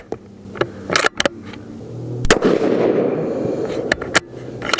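Sharp, loud cracks from a Tikka T3X Super Varmint rifle in .223 Remington firing Hornady 69g match bullets, several distinct reports with short echoing tails and a broadband rush in between.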